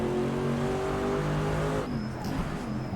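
Engine of an RSS mod race car in the Assetto Corsa racing game, a steady, loud harmonic drone that holds its pitch before easing off, with a faint high whine and some tyre noise near the end.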